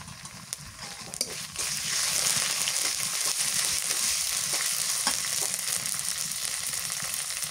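Ginger-garlic, cumin and green chili pastes hit hot oil with fried onions for a fish curry, and the sizzle swells sharply into a loud, steady hiss, close up, with occasional stirring clicks.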